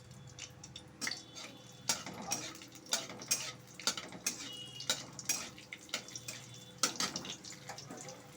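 Spices frying in a pan for a potato curry with ground nut paste, with repeated scraping and stirring clatters over a steady low sizzle, close and moderately loud, no talking.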